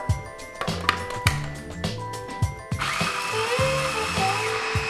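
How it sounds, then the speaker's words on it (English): A kitchen food processor grinds a cup of raw walnuts into flour. A few short clunks and taps come first, then a steady, loud whirring burst of the motor. "I'm going to use a cup of raw walnuts, put them in the food processor,"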